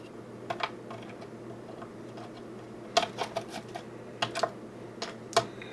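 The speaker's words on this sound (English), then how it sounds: "I think I'm just gonna start removing all the screws." Screws being backed out of a lens on a rare Japanese-market car with a screwdriver produce scattered small clicks and ticks, some in quick clusters, close and fairly quiet over a low background hum.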